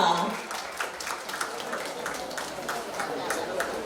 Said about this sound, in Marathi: जोरदार टाळ्या होऊन जाऊ द्या.